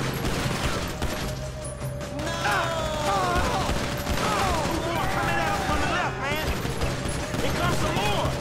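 Bursts of Uzi submachine gun fire in GTA 5, sounding amid a busy mix of game effects, music tones and other noise, with voices talking over parts of it.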